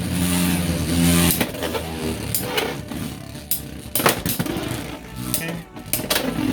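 Beyblade X battle tops Stone Mont Blanc and Hells Hammer clash in a stadium, giving a continuous loud whirring grind with sharp metallic knocks and rattles scattered throughout.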